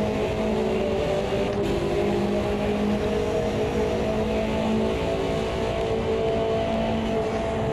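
A race car engine in Automobilista 2 drones continuously at high revs, with steady harmonic tones shifting slightly as the car is driven flat out, loud and unbroken throughout.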